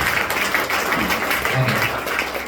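An audience claps together at a lecture, a dense, even burst of applause lasting a few seconds, loud and close, with faint voices mixed in.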